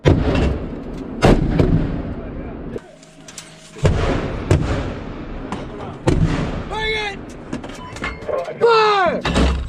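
Artillery guns firing during a U.S. and South Korean soldier exercise, several heavy booming shots spaced a second or two apart, close and loud, with soldiers shouting commands between them.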